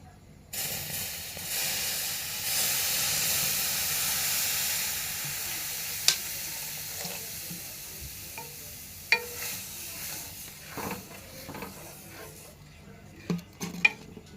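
Milk poured into a pan of browned fried vermicelli and rice flour, a loud hissing rush that gradually fades into quieter bubbling, followed by several sharp spoon-and-pan clinks and stirring knocks.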